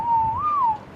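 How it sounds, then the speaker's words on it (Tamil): A player character in ARK Survival Evolved Mobile performs a whistling emote: one clear, loud, close melodic whistle that holds steady, rises briefly, then falls away within about a second. "நல்லா இருக்கு, சூப்பராக விசில் அடிக்காங்க கைஸ்."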